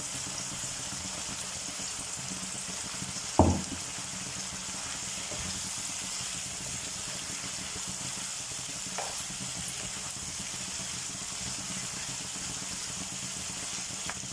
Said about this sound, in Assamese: এইখিনি এতিয়া এইদৰে অলপ সময় ভাজি থাকিব লাগিব